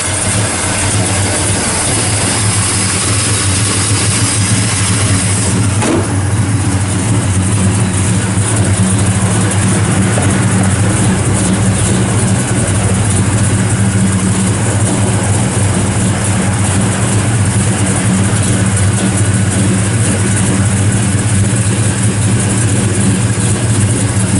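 A 1966 Plymouth Belvedere with a 440 engine and 727 TorqueFlite transmission idling, a loud, steady low rumble heard up close with broadband hiss and no voices.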